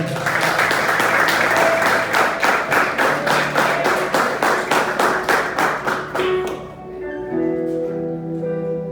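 A church congregation bursts into sustained, rhythmic clapping during a worship service, loud and even. The claps stop after about six seconds and give way to held musical tones.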